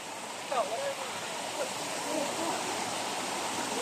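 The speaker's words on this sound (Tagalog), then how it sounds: "So, ito po yung Banisa Falls." Banisa Falls waterfall in Baliguian, Zamboanga del Norte, roaring as a steady broadband rush of falling water that fills the scene, with a few faint higher chirps or voices briefly rising above it.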